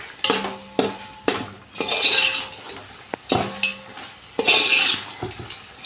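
Chicken biryani spices being stirred together in a large pot, with repeated metallic scrapes and clinks of a spoon against the vessel in uneven bursts, close and fairly loud, without speech.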